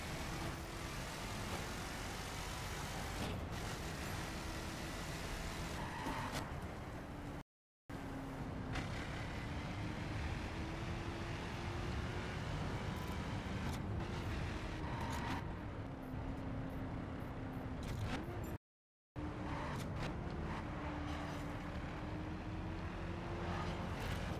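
Car engine in a racing video game heard from the in-car view, a steady droning hum with rising and falling pitch as it shifts gears, broken by two brief silent gaps.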